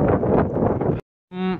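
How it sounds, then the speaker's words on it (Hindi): Strong cold wind buffets the microphone at the Ateshgah fire temple in Azerbaijan, a loud gusting roar that cuts to silence, then a brief harmonic tone follows. "इतनी शदीद हवा चल रही है"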